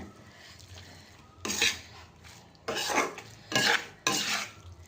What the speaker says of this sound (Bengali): এই কড়াইটাতে ভীষণ নড়ে চলে যায়